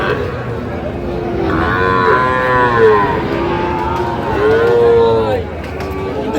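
A Sahiwal bull at a cattle market gives two long, loud, close moos with rising and falling tones, one after the other, over a steady background murmur.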